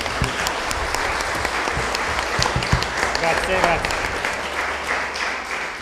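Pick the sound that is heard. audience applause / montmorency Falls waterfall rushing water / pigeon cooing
audience applause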